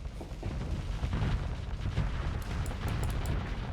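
Missiles pounding a ship during a space battle in Starsector, a dense continuous rumble of booms and blasts with crackling impacts throughout, loud and sustained.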